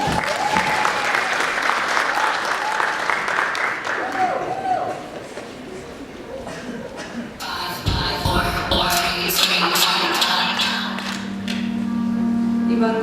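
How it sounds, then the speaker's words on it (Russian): A student talent-show audience applauds a performer coming on stage, a busy spread of clapping mixed with voices and shuffling, followed by music and a sustained tone starting partway through. "На этой сцене встречаем аплодисментами"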